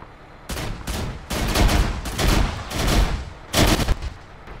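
Mounted gun firing in the Iron Front combat game, loud close bursts of automatic fire in several separate volleys with short gaps between them, no voices.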